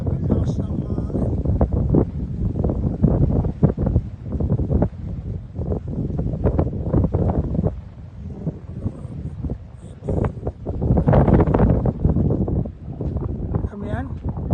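Gusty wind roars across the microphone on a high mountain summit at about 2,717 m, a loud steady rumble with surging gusts, and voices talk through much of it.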